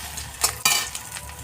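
Egg-filled Mughlai paratha fries in oil, a bright hissing sizzle that flares sharply twice in quick succession and then settles into a steady crackle, close and moderately loud.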